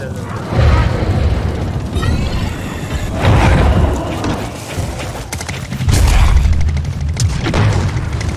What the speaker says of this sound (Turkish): Nereye sıkıyor? Sana mı sıkıyorlar?